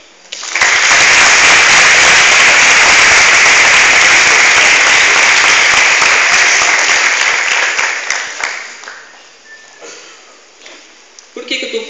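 A loud burst of applause from a crowd at a Baptist youth church service, sustained clapping for several seconds before fading out, followed by quieter room sounds.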